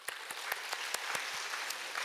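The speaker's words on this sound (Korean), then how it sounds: "우리 하나님께 영광의 박수 칩시다" A church congregation claps in a steady, rhythmic burst of applause, with regular sharp hand claps carrying through the sanctuary for about two seconds and no voices over it.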